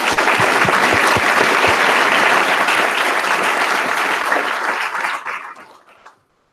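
Conference audience applause rises full and dense, sustained for about five seconds before thinning and fading out to silence, loud and close with no talk over it.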